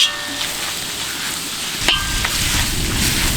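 Onions, big and small, sauté in oil with fennel seeds for turkey paya, a loud, steady sizzle with one knock of a utensil and the frying growing denser afterward.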